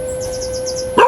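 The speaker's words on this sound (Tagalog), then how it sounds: "Tapang ng aso." A single close dog bark at the very end, sharp and short, following a stretch of chirping birdsong and a steady electrical hum in a rural Filipino setting.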